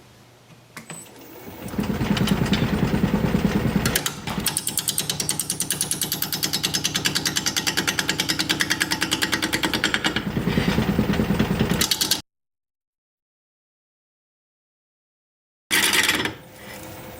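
Wood lathe turning a Japanese quilted maple blank, a loud steady motor whir with rhythmic rattling as the tool cuts, then an abrupt stop, a silent gap and a brief restart.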